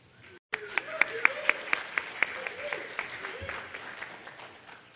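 A conference audience applauds to welcome a speaker onto the stage at a hacker security convention, a dense burst of clapping with a few sharp claps standing out, steady for several seconds.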